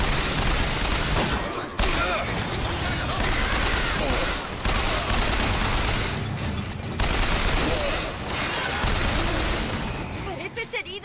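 Dense, sustained automatic gunfire in Bioshock Infinite, a machine gun rattling in loud bursts with brief pauses between them and game effects mixed in.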